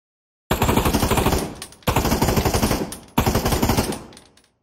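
Three long bursts of rapid automatic gunfire from a VR first-person shooter game ring out loud and close, each a dense rattling volley with a brief pause between.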